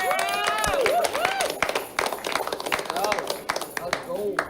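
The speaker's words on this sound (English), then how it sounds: "Please give a round of applause to Tara Schwartz." Loud crowd applause and clapping fill the room at a poker championship main event, with scattered cheers and voices rising over the steady patter of hands.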